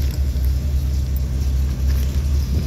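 A truck engine idles steadily just after starting, a loud, close, continuous low rumble with no talk over it.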